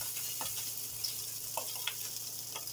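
Sausages browning in a frying pan give a soft, continuous sizzle with a few light clicks and taps, quiet and close.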